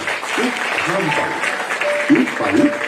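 An audience claps at an inauguration ceremony, a steady wash of applause running under a voice speaking through it.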